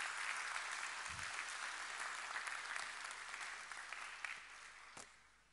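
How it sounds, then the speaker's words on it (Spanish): An audience applauds at an international seminar on artificial intelligence and higher education, a steady broad wash of clapping that holds throughout and gradually thins toward the end. "Aplausos para Eloísa y para todo el equipo."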